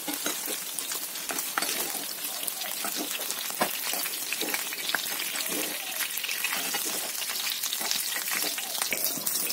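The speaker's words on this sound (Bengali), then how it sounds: "ভালো করে লাল লাল করে মাছগুলো ভেজে নেব।" Katla fish pieces frying in oil give off a loud, close, unbroken crackling sizzle with constant fine popping spatter throughout.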